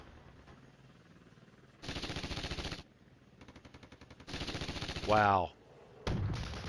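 Artillery and heavy gunfire in the Cold War wargame Flashpoint Campaigns Red Storm, with a Russian barrage arriving as several loud sustained bursts separated by quieter stretches of rapid firing, and a brief exclamation from a voice.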